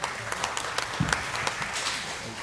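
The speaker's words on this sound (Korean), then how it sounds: "박수 한번 부탁드립니다" An audience at a Korean forestry lecture claps steadily in a dense, moderately loud patter of many hands, heard alone for a couple of seconds.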